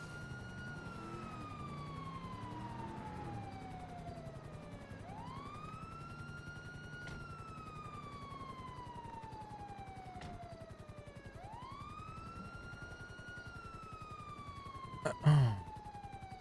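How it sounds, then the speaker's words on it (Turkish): Police car sirens wail in GTA V FiveM roleplay, a continuous rising and falling electronic tone cycling steadily over several seconds, fairly loud and alone, with a brief thump near the end. "Şu öten arabaların çakarlarını, sirenlerini kapatın."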